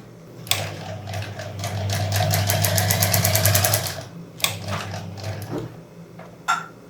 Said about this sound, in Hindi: जैसे जैसे शेप आपने कट किया उसी तरह से आपने इसकी सिलाई भी लगानी है